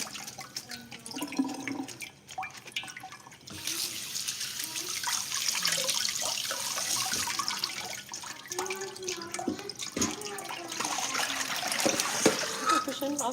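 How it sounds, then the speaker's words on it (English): Water running and draining in a kitchen while cooking lasagna, a continuous splashing, trickling flow with scattered drips and clatter, heard under a woman's speech. "I'm just letting all of that water come out."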